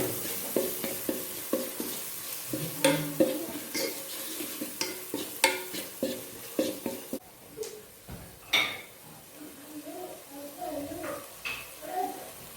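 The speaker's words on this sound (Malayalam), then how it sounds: "ഇതിൻ്റെ അകത്തോട്ടേക്ക് നമുക്ക് സവോള ഇടാം. എന്നിട്ട് നമുക്കിത് വഴറ്റിയെടുക്കണം." Onions frying with ginger garlic paste in a pan for a fish biryani, a close steady sizzle broken by repeated spoon clanks and scrapes against the metal, with quieter stirring later.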